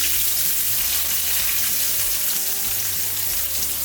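Chopped onions go into hot oil with popped mustard seeds while making idiyappam, giving a loud, constant hissing sizzle that holds steady throughout with no talking.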